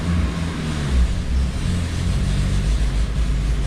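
A 1986 Plymouth Voyager with a 2.2 liter engine held on a dyno in fourth gear, a loud, steady, droning engine roar that stays at full load throughout.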